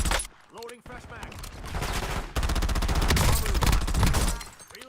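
Rapid gunfire erupts in a video game after a magazine reload, with sharp bursts of automatic shots building into a dense, loud fusillade close up and a voice talking briefly over it.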